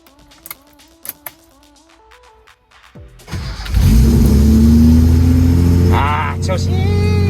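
A Nissan Fairlady Z engine on a drive to a gas station, choke engaged: a few faint clicks and tones, then the engine catches and settles into a loud, steady, close idle with a brief rev near the end.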